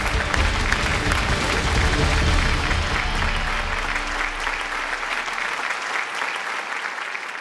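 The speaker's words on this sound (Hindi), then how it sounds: "तालियां इनके लिए।" Studio audience applause on a Hindi TV show for seven contestants declared safe, a dense, loud, sustained wash of clapping that holds steady and tapers slightly near the end.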